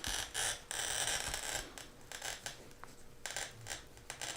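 A glass cutter scoring stained glass, heard as bursts of bright, gritty scraping with brief pauses and a few light clicks between strokes.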